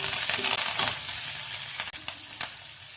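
Green chillies and curry leaves fry in hot oil with a steady, bright sizzle and a few faint stirring scrapes, close by with no voices.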